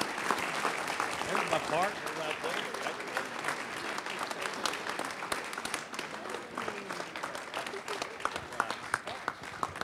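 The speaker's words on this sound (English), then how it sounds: "give yourselves a big round of applause for being here today" Sustained audience applause at a legislative summit, a dense steady wash of many hands clapping close by for the full stretch, with a brief spoken remark over it.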